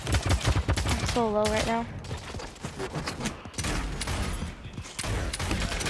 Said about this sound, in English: Everyone's shooting at me.